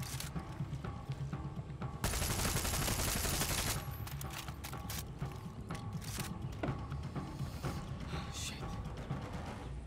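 Rapid gunfire with heavy recoil from a weapon in the video game Far Cry 6, a dense, loud burst of shots that starts abruptly and is followed by scattered sharp clicks and mechanical rattles.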